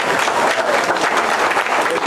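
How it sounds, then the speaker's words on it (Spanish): A crowd gives loud, dense applause for an event organizer, a brief, steady wash of clapping close by. "el aplauso grande para el mentor y el organizador de la actividad"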